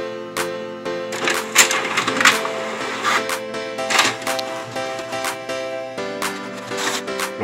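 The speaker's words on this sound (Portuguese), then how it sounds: "coloca lá a etiqueta na impressora e vamos mandar imprimir" A printer feeds and prints a sheet of Pimaco labels. Mechanical whirring and buzzing with steady tones comes in bursts, broken by clicks and shuttling strokes as the paper advances, close and moderately loud.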